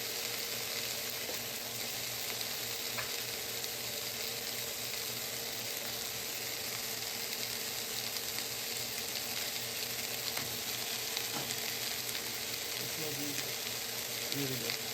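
Food fries in a pan on high heat with a dense, constant sizzle that is fairly quiet, with a few light clicks and no speech.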